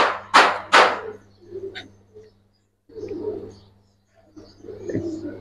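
Pigeons, a Giribaz and coloured fancy breed kept in Bangladesh, give two loud close coos at the start, followed by softer murmuring coos and quieter rustling, with a steady low hum underneath.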